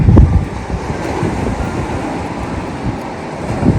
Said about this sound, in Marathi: हवा भरपूर आहे हो हवा चालत फार आहे